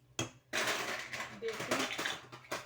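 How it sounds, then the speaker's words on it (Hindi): Sugar poured into a pan while making a sweet custard dish, a few quick gritty rattling and clinking bursts close up over a quiet kitchen background. "अब मैं यहाँ चीनी डालती हूँ"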